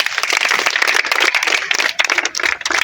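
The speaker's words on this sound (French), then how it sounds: "On applaudit." Applause from an audience at a tennis camp, a steady dense patter of many hands clapping close by, loud and continuous with no voices over it.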